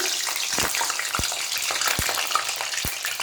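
Potato fries crackle and sizzle steadily in hot oil, a dense close frying hiss with several sharp pops scattered throughout, no voices.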